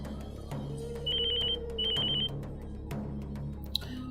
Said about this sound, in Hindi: तुम्हारी बीवी फोन पर फोन कर रही है।